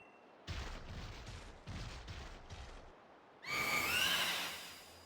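A horse in Pokemon Sword gives a loud, high, wavering whinny near the end, after a run of deep rumbling thuds from the game, with no talk.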